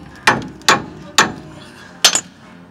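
Four sharp metallic ratcheting clacks sound up close at uneven intervals as a bolt is tightened while a tire is being put back on.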